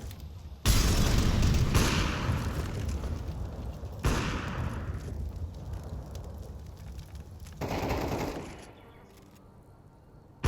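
Grenade explosions in the shooter Counter-Strike, several heavy booms with long rumbling tails, loud and spaced a few seconds apart.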